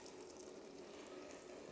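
High-pressure water gushes from a detached radiator during a house renovation, a dense continuous rushing hiss that stays steady and fairly faint throughout.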